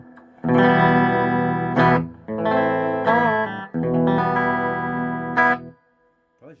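Distorted electric guitar chords through an Ibanez Iron Label amplifier ring out in several sustained strums, each washed in heavy reverb that lingers and fades after the playing stops.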